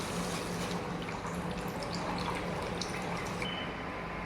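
Water poured into spices fried in a pan for a fish curry, a steady close hiss and trickle lasting throughout with no talking.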